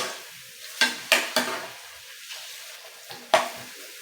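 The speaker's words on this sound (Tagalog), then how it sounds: "Hayaan muna natin maluto ng maayos yung ating patatas." Potatoes cooking in a pan give a faint sizzle beneath a few sharp scrapes and stirs of a utensil against the pan, spaced irregularly and heard up close without speech.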